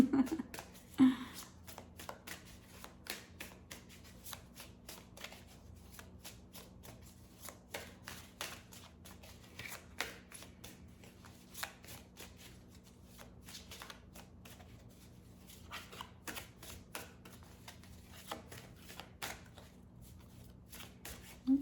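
A deck of tarot cards shuffled by hand for a reading: repeated soft riffling and papery flicks in close, intermittent bursts, with a faint steady hum underneath.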